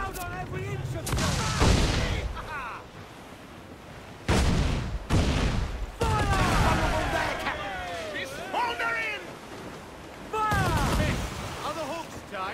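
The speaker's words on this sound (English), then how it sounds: "Cannon ready!" Broadside cannon blasts from a pirate ship in Assassin's Creed IV Black Flag video game, several loud booming volleys spaced across the clip with rumbling sea and wind, while crew members shout orders between and over the shots.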